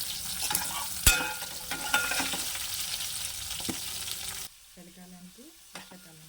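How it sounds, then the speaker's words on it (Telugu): Tempering spices, curry leaves, coriander and onions sizzle and crackle in a hot pan for a fenugreek-and-onion pulusu, with stirring scrapes and pops that drop to a quieter simmer near the end. "పోపు దినుసులన్నీ వేసేస్తున్నాం కొంచెం కరివేపాకులో కొంచెం పోపులో కూడా వేసుకోవాలి కొంచెం కొత్తిమీర ఆనియన్స్ వేసేసాం"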